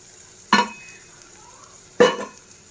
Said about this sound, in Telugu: కొంచెం ఆయిల్ పోసుకుందాం.